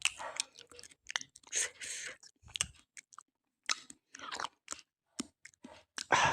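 Close, crisp crunching of a crunchy shrimp snack being chewed, bites coming in irregular bursts with brief pauses between, with soft speech mixed in.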